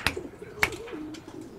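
Pet pigeon cooing, with a soft low coo running through the clip, close and quiet, between two sharp clicks.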